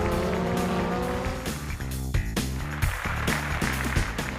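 A loud race car engine roars past close by at a national racing championship, pitch shifting as it goes, with a buzzing, revving drone throughout.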